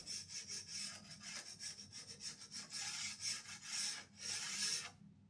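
A scraper is worked by hand over a wood tray to remove a sticky residue, giving repeated rasping strokes in an uneven rhythm. The scraping is close and fairly quiet, with no talking.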